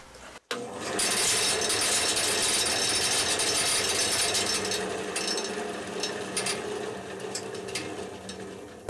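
A Porter Cable bandsaw fitted with a riser block runs steadily after a sharp start, its kinked blade producing a loud continuous rattle and metallic buzz, heard close with no talking.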